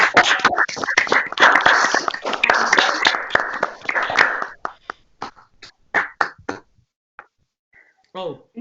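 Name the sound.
participants clapping hands on video call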